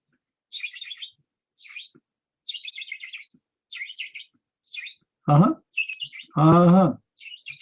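Bright, rapid bird chirps come in short bursts separated by pauses, and a couple of brief vocal sounds cut in between them.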